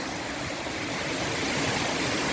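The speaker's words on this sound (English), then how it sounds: "this beautiful waterfall carries on down" Waterfall pouring over rocks on a coastal valley hike between Heddon's Valley and Lee Bay, a steady broad rushing roar that builds slightly, close and constant with no voices.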